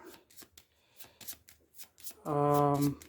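A deck of scheme cards for a tabletop card game shuffled by hand, with soft riffling bursts across the clip, followed by a sustained tonal voice near the end.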